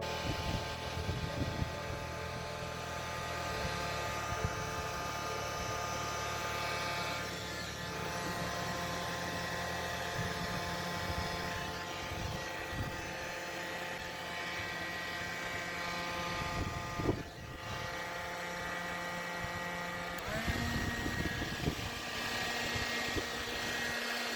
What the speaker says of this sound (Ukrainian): Беремо будівельний фен і в бій.